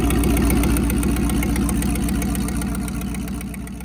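A Cadillac engine mounted in a Bradbilt log hauler runs at a steady, loud idle with a throbbing mid-low rumble close by, gradually easing a little in level.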